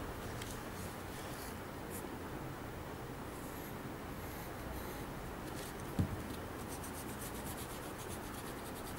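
A pencil drawing a shield outline on paper, giving a soft, continuous scratchy rub under steady room noise, with one small click partway through.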